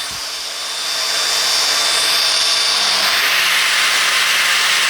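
A Metabo WEVBA 20-125 brushless 2 kW angle grinder spinning up and running at high speed, a loud steady high-pitched whine that holds constant after a short ramp-up.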